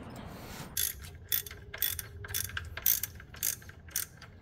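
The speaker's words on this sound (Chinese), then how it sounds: "就直接把它的螺母锁紧，" Hand ratchet clicking in quick repeated strokes as it tightens the nut of an engine belt tensioner, close and crisp against a quiet background.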